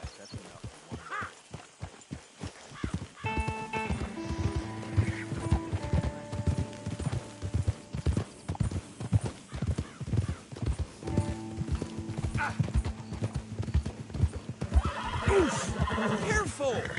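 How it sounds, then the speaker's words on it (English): A horse neighs loudly over a steady, rhythmic clip-clop of hooves in Red Dead Redemption 2, with voices speaking in the background. "Will you get a hold of that horse?"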